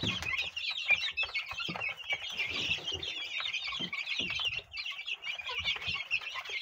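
Rhode Island Red, decal brown, black Australorp and decal white chickens cluck continuously in a busy flock, with steady overlapping calls close by and no talk.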